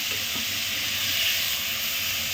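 Paneer frying in hot oil on a gas stove, a continuous even hiss and sizzle held steady throughout.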